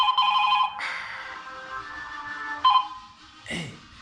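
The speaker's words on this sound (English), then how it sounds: "We're gonna be having a very crooked ringtone here, which is ringing like something else here." A telephone ringtone rings in loud, tonal electronic bursts, pausing and then starting again, with a brief voice near the end.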